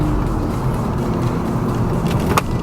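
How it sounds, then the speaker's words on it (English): A car accelerates onto a freeway entrance ramp in third gear, giving a steady close engine and road roar with a brief sharper knock near the end. "I'm going to drop it into 3rd gear"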